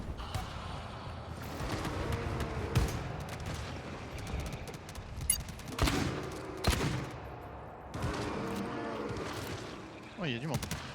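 Bursts of gunfire in the co-op shooter game GTFO, several volleys of shots scattered through the scene under French-speaking players talking.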